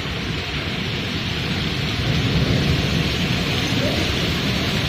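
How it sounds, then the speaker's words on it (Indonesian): Hail falling in Dubai during a storm, a constant dense hiss of pellets striking surfaces close by, growing a little heavier partway through, with no voices. "Baru pertama kali hujan es."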